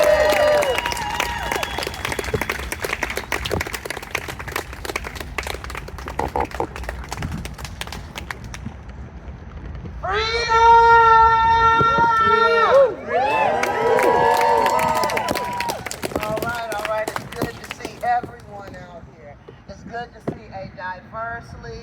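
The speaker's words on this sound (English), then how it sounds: "So everybody, please put your hands together." Audience applause and cheering fill a crowd at a commemoration of the 107th anniversary of the 1917 East St Louis Massacre, a steady wash of clapping that swells midway with bright shouts and whoops, with voices mixed in.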